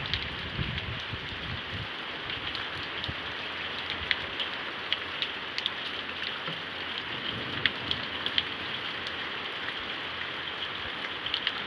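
Steady soft rainfall with scattered drips and patters landing on surfaces, a continuous gentle hiss throughout with no voices.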